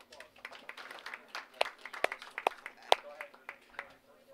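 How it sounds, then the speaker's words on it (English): An audience claps for the bowlers at a bowling tournament finals, a scattered, fairly quiet round of individual hand claps in an indoor alley. "Let's give our bowlers a nice round of applause."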